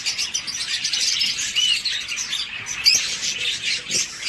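Bred pet birds, among them a lutino, chirp and tweet steadily in an aviary, a dense chorus of small high calls with occasional louder squawks close by.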